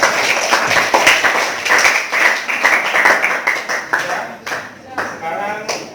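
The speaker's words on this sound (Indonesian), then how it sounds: "Oke, aplaus untuk kelompok." Classroom applause for a student group, a dense burst of many hands clapping close by that fades out over a few seconds.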